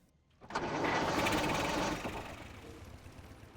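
A motorcycle engine in World of Warcraft, the Incognitro Felcycle mount, starts with a sharp burst and then roars steadily before settling into a lower, fading idle hum.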